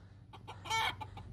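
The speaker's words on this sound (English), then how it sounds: "Come on, you little crazy chicken." A chicken gives a quick series of soft clucks, faint and near, rising to one brief louder squawk before trailing off.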